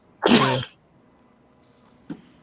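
One sharp, loud sneeze up close, followed by quiet and a brief faint sound afterward.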